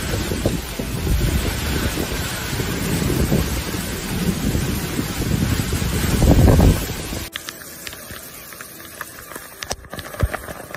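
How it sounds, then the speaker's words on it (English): Strong wind gusts buffet the microphone during a flood-bringing rainstorm in Mecca, Saudi Arabia, a loud broadband roar that swells toward a peak before dropping abruptly to a quieter, crackling background with scattered knocks. "Disrupted systems poured large amounts of rain and were accompanied by strong gusts of wind."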